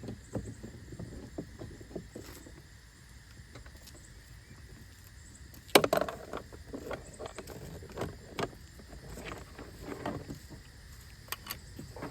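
A 10mm deep socket works a screw loose inside an Infiniti Q60 during a window switch replacement, giving close, scattered metallic clicks and one sharper clack over a quiet background hiss, with no talking.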